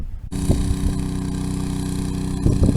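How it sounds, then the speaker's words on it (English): A steady engine idles close by, a continuous low rumble that holds its level throughout after a brief quiet start. "I hope you can hear me over the sound of that engine and the wind noise"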